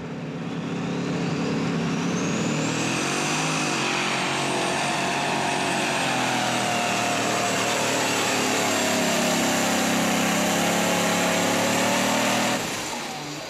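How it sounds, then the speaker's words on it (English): A V8-powered unlimited super stock pulling tractor at a Saluda, South Carolina pull bogs down under load, then keeps chugging with a loud, continuous engine roar that stays steady before cutting off near the end. "you could hear it pull the RPMs down, but once it got in its torque band, it just kept on chugging"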